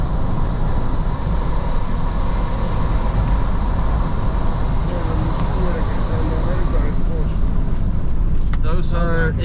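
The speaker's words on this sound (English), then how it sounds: "now we're stuck behind a road train" Steady roar of road and engine noise from a car driving behind a road train truck, a continuous loud drone with a constant high insect-like whine over it and brief voices near the end.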